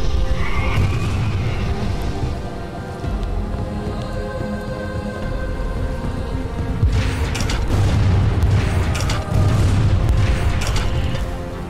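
Cannon firing in a video game set aboard a boat, heavy booming blasts over a dense rumbling game soundscape, with stronger bursts clustering toward the end.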